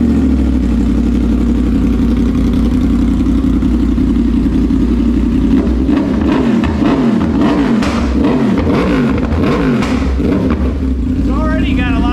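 A 2021 Yamaha R1 sportbike idles with a steady engine drone, then blips its throttle in a run of sharp revs with popping, gurgling exhaust in the second half, close and loud throughout.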